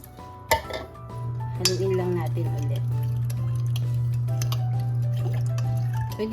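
Mackerel brine of water and dissolved salt being stirred in a pot: a utensil clinks against the metal with scattered taps and a light sloshing, over a steady low hum.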